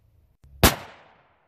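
A single sharp rifle shot from a 350 Legend firing a 150-grain hunting round, loud and close, with a sudden broadband crack that decays over about half a second, preceded by a faint click.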